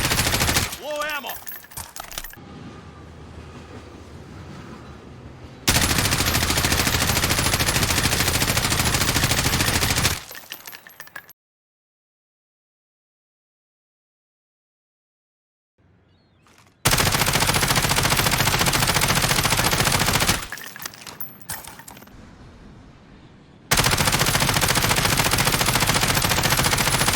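Automatic rifle fire in the Call of Duty video game, comparing the M13, Kilo, M4 and Grau, comes as loud sustained bursts separated by short gaps and a stretch of silence midway.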